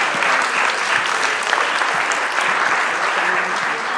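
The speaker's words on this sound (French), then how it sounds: "je pense qu'ils méritent des applaudissements" Audience at an anniversary debate event claps warmly, loud sustained applause with no pauses, a dense wash of hands close by.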